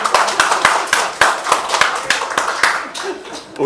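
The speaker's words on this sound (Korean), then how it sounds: "여러분 박수" A small audience at a poetry book talk bursts into close, crisp hand clapping, a lively run of distinct claps that stays strong for several seconds.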